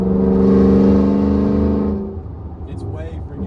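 A car fitted with SPD high flow catalytic converters revs hard to about 3,000 RPM, a loud rough exhaust roar that falls away after two seconds, followed by quieter idling and a voice.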